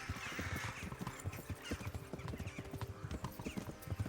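Horse hooves clip-clopping at a steady trotting rhythm in the video game Kingdom Come: Deliverance, fairly quiet with soft jingling and background ambience between the regular hoofbeats.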